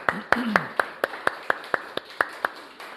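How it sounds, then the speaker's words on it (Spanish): Slow, evenly spaced claps in church, about a dozen sharp beats, with a brief voice near the start. "denle un aplauso al Señor"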